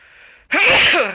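A single loud, close human sneeze, a short breathy inhale followed by a sharp explosive burst that quickly fades.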